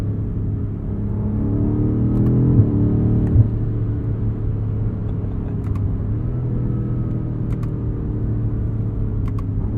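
A 2021 BMW M5 Competition drives with a steady, deep engine rumble heard from inside, holding an even drone with slight swells and no talking over it.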